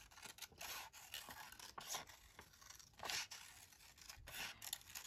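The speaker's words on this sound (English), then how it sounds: "I'll just trim off all the knobbly bits because I don't have time for fussy cutting" Scissors trim paper for a handmade notebook, a quiet run of repeated snipping and scraping cuts at close range, with no talk.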